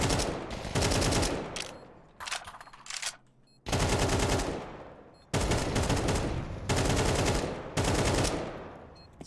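Rapid automatic gunfire in Counter-Strike on the Anubis map, long sustained bursts broken by short pauses, loud and close, with a few quick shorter volleys in between.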